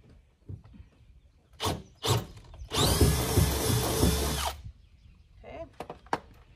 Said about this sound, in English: And so I'm gonna drill a hole right here.